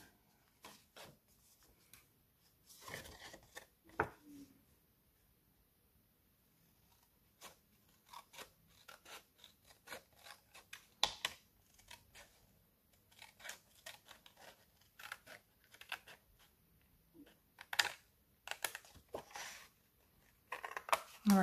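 Scissors snip through paper while making a pocket tag, giving scattered short crisp cuts and rustles at a quiet, close level with soft pauses between snips.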